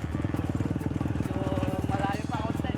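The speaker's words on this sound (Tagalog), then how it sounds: "Tumitingala yung motor." A small motorcycle engine revs hard and steady, its throbbing pulse loud and close as the overloaded bike strains and lifts its front into a wheelie, with laughter and voices over it.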